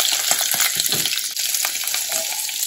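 Ginger, green chilli and garlic fry in a pan with whole spices, a loud, dense crackling sizzle with small pops throughout, close and continuous.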